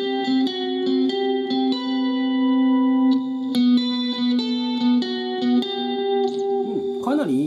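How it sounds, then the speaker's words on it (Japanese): Sustained electric guitar notes through a ZOOM MS-50G hall reverb ring out spaciously, sliding between pitches and trailing off into a lingering wash. "続いてホールリバーブ、まあ設定こんな感じにしてるんですけれども"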